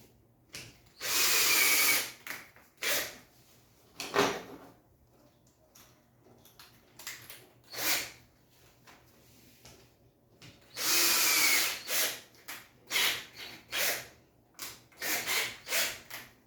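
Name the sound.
power drill driving screws to mount an invisible shelf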